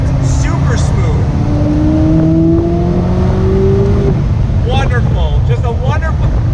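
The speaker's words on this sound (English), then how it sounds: "get on the gas, and it goes" A 2019 McLaren 570S Spider accelerates with a steady, loud engine drone whose pitch climbs smoothly, then a few quick rising shift sweeps near the end.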